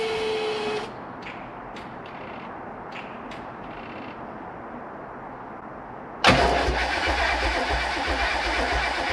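A 1985 Formula speed boat's 302 engine cranks and catches after a stretch of quiet ticking, bursting into a loud, steady close-up running roar that continues to the end.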